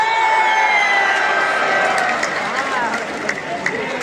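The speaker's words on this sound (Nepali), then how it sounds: "बवाल भयो है हुटिङ सुन्न सक्नुहुन्छ" A crowd at a volleyball final hoots and cheers in a loud, continuous roar, with a voice calling out over it, and the noise eases slightly toward the end.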